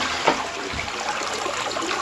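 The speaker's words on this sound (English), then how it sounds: "Now we'll flush it." A toilet flushes nearby, the rush and swirl of water loud and steady throughout this short stretch, with no voices.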